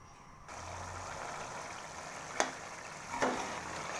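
Onion and garlic fry in oil with a steady, moderate hiss that starts abruptly and carries on. Two brief scraping stirs cut through it, and no one speaks.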